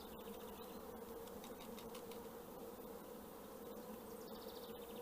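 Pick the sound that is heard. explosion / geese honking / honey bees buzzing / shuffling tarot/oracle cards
honey bees buzzing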